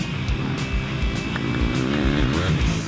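Motocross dirt bikes ridden on a pro training track, engines buzzing and revving continuously at close range with rising and falling pitch as riders accelerate through turns, loud and steady throughout.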